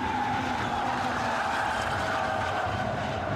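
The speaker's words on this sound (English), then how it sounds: "Squeals his way through that right-hander." Mazda MX5 Mk3 Cup race car squealing its tyres through a right-hand corner at Anglesey circuit, a sustained high tyre screech over steady engine drone, loud and continuous throughout.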